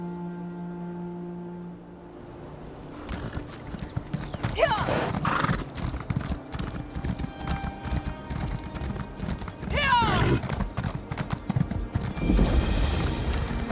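A horse's hooves clip-clop steadily in Elder Scrolls Online, with a couple of whinnies. The quiet game ambience swells into loud, continuous hoofbeats, and a voice is heard in the game.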